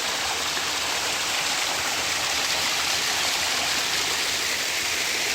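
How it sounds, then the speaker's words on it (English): A waterfall in the Cohutta Wilderness, a steady, dense rush of falling water heard close and loud, unbroken and without voices. "Well, I found the waterfall here, hiked down to it, and this is just beautiful."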